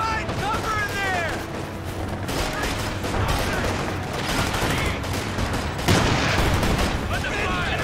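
Dense, sustained gunfire and bursts of weapons fire in the World War II strategy game Company of Heroes, Ardennes Assault at Ouren, with soldiers' voices shouting over the continuous battle noise.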